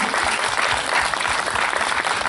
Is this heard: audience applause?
yes